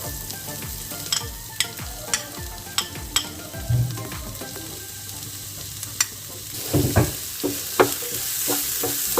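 Onions sautéing in a teaspoon of hot oil in a pan over high flame, a steady close sizzle punctuated by regular spoon taps and scrapes, with a busier burst of stirring later on.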